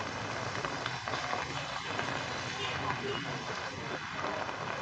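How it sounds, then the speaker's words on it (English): Heavy rain and gusting wind fill a street in Saigon near Ben Thanh market, a dense, steady wash of noise with rumbling wind buffets and no clear voices. "In this area, it is raining"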